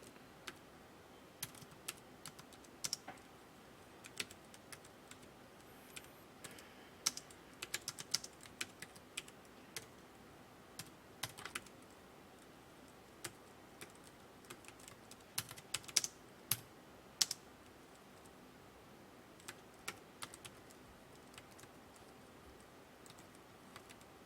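Someone types on a computer keyboard while working on a PowerPoint exam task, with irregular, light clicks and occasional quick runs of keystrokes over a steady faint hiss, close and fairly quiet.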